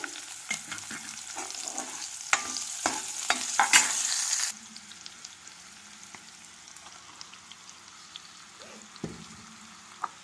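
Onion frying in oil and ghee in a pan, a bright crackling sizzle under repeated scraping stirs that fades to a softer, quieter hiss partway through, close and without talking.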